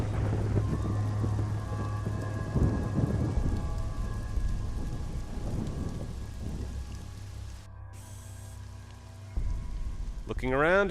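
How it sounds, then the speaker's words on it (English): A thunderstorm in the video game AlternativA brings steady heavy rain with deep rumbles of thunder rolling underneath, continuous and fairly loud, with a brief cut near the end. "I hope the rain isn't too acidic."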